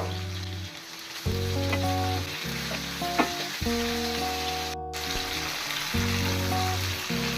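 Pomfret fish sizzling in mustard oil after being turned to fry the other side, a steady, close frying hiss with light bubbling and crackle throughout.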